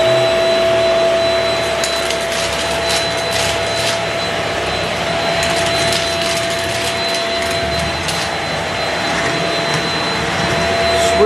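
A Shark Rocket Ultra Light vacuum cleaner runs loud and close with a steady high whine and roaring airflow, holding constant throughout with small rattles from pet kibble being sucked up.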